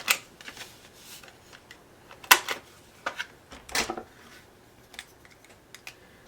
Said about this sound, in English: I'm going to round these corners on the bottom.